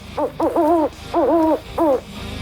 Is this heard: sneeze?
no